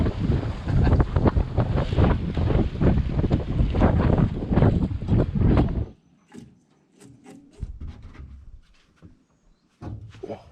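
Loud, blustery wind buffets the microphone for several seconds, then drops to lighter gusts with faint splashing and occasional bumps.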